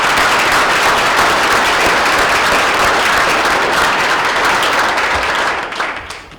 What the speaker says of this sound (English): I'd like to just give you a round of applause